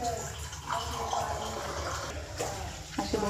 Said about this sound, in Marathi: मी इथे दोन ग्लास पाणी टाकते